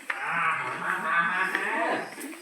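A buffalo moos in a cattle shed with a long, deep, steady bellow that fills nearly the whole moment, loud and close, with faint background voices.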